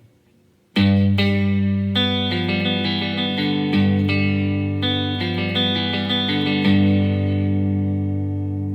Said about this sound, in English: I've got my amp with a lot of reverb on it.